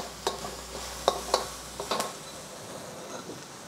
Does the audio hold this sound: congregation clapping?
no